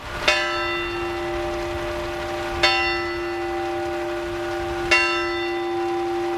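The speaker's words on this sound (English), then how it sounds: "and ending with the ringing of the bell." A single deep memorial bell tolls three times at slow, even intervals at a fire chief's memorial, each strike ringing out with a long sustained hum.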